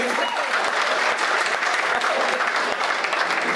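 Applause from an audience at a Hindi comic poetry gathering (hasya kavi sammelan), with dense, steady clapping and crowd noise that stays loud and continuous throughout, with no clear talk over it.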